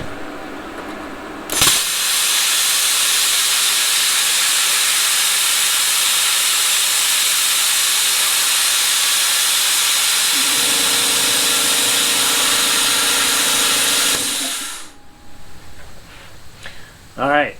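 A Bestarc BTC500DP plasma cutter slicing a circle through dirty metal gives a loud, steady hissing roar for about thirteen seconds, joined late by a low compressor drone, then stops abruptly.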